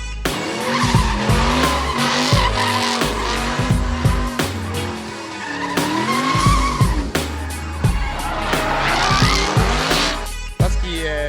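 A drift car skids at a Formula Drift event in the United States, its tires squealing loudly and continuously as the engine revs rise and fall through repeated slides.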